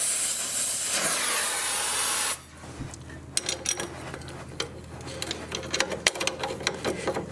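A torch heats a seized front strut nut on a 2007 Chevy Equinox, opening with a steady loud roaring hiss that cuts off abruptly, followed by quieter ticking, crackling and small metallic taps.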